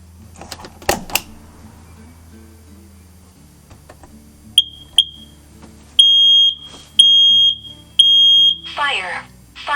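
A combined carbon monoxide tester and smoke alarm in a campervan, preceded by clicks and handling noises, then emitting a few short chirps followed by repeated loud, piercing beeps in a steady pattern, with a voice briefly at the end.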